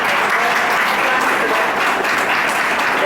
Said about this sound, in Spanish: Recibamos con un fuerte aplauso a nuestro conferencista